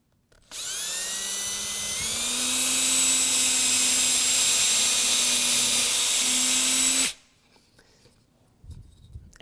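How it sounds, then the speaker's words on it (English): Power drill pre-drilling into wood at an angle, a steady high whine that rises in pitch and holds for about six seconds before stopping abruptly, close and loud. "Now in order to start drilling down, I am going to first start here a little bit on an angle, and then I'm going to work the bit up."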